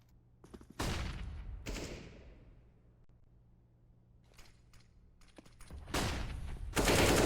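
Bursts of gunfire from a Counter-Strike: Global Offensive match, two loud volleys early, scattered quieter shots mid-clip, then heavy sustained firing toward the end, with no voices.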